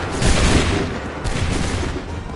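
A loud, close volley of musket fire in Assassin's Creed 3 erupts as a dense crackling burst, fades, then a second ragged burst follows within a couple of seconds.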